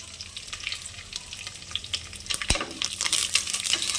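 Chillies, garlic, cumin and mustard seeds frying in hot oil for a quick puffed-rice oggarne, a steady crackling sizzle that builds and grows busier toward the end, with a brief clink of stirring partway through.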